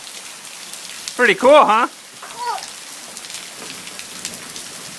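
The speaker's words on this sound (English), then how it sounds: "what do you think of all that rain?" Steady rain falls outdoors in a dense, even patter that fills the whole stretch, with a person speaking briefly over it near the start.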